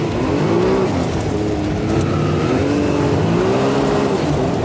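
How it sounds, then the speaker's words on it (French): A radio-controlled buggy fitted with tank tracks runs continuously, giving a loud, steady motor whine with wavering pitch over a dense grinding clatter from the tracks. It sounds close and unbroken throughout. "Oh le bruit des chenilles."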